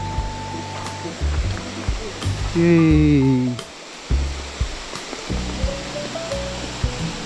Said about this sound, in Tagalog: May falls pa kami na daanan oh.